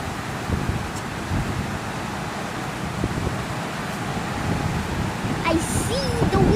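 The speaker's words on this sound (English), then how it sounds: "I see the wind. I see the wind." Gusty wind blows outdoors during rain, a steady broadband rush with buffeting that holds for the whole stretch and grows stronger near the end, while a faint chirp sounds above it.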